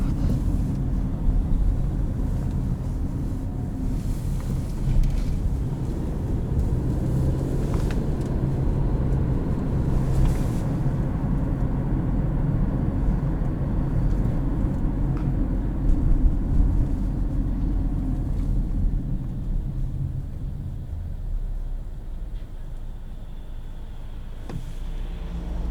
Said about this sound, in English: In terms of road noise, it's pretty quiet.